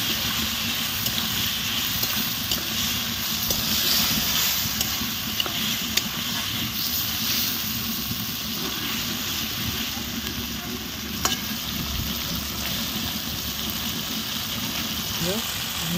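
Raw potatoes fry and are stirred in a pan, giving a steady, close sizzle with occasional scraping, under a voice speaking Bengali.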